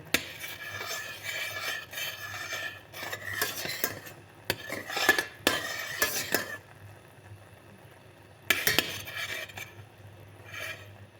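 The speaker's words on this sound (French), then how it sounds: "Donc je mélange plus ou moins 1 à 2 minutes après avoir mis la poudre." A utensil stirs a sugar jelly mixture in a pan after powder has been added. Soft scraping and clinking strokes come in irregular bursts separated by short pauses. The sound is close and fairly quiet, with no talking.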